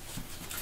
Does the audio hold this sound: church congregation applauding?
no